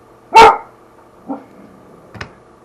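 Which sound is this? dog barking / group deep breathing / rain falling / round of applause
dog barking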